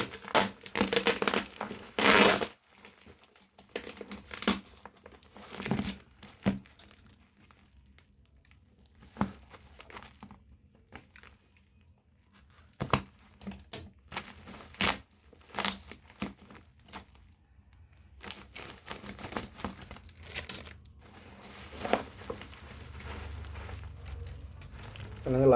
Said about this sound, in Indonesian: Rencana aku bubble ini tak gunakan lagi gitu, tapi ternyata agak susah juga ya untuk membukanya.